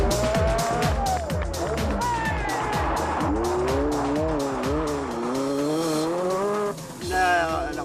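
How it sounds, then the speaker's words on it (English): Renault 5 Turbo rally car sliding hard, its engine revving and tires squealing in repeated bursts with sweeping pitch changes, loud and close, with faint crowd noise behind. "c'était une voiture spectaculaire, elle glissait beaucoup"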